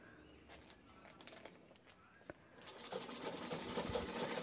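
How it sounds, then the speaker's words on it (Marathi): A sewing machine stitches fabric from a saree into a bag, running quietly at first and then in a louder, steady whir through the latter half, with faint bird coos in the background. "मी सुलट बाजूनी शिलाई घेत आहे, कारण पायपिंग करायची आहे"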